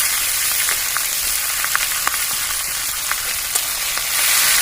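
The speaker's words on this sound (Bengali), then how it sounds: "হালকা ভেজে নেবো তেলে" A paste of tomato, green chili and ginger sizzles steadily in hot oil, a constant bright frying hiss with a few small pops, close and alone without voices.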